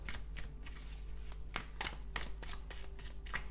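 A Triple Goddess Tarot deck is shuffled by hand in a steady run of close, crisp riffling bursts against a low background hum, with no talking.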